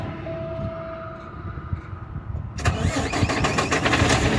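A Paccar diesel truck engine after a diesel filter change: a low idle rumble, then a quick crank and catch at the midpoint that swells into a louder, rough, close mechanical clatter.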